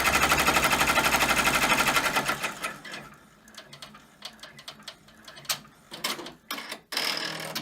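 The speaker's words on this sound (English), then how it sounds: "So it's going to go ahead and stitch this first run." Embroidery machine running a placement-line stitch, a loud rapid mechanical chatter for about two seconds that stops and gives way to clicks and clatter of hoop and fabric handling.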